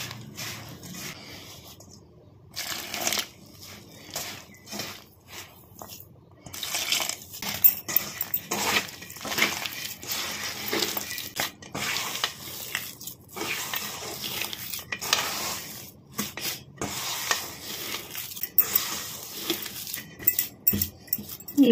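Rice flour is kneaded by hand with hot water for thin chakli pitha, giving repeated wet squishing and slapping strokes in an uneven rhythm, close and fairly loud, with no talking.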